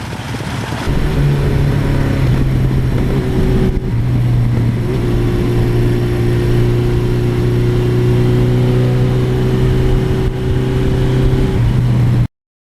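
A 1982 Suzuki GS1100E motorcycle engine drones steadily while riding, a loud continuous low hum with mild shifts in pitch, no talking over it.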